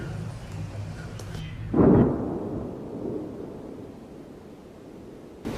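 A distant shell explosion thuds once, followed by a low rumbling tail that slowly dies down over steady background noise.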